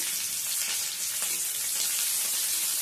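Sliced onion sizzles and crackles steadily in hot mustard oil in a pan, a close, continuous frying hiss with no talking.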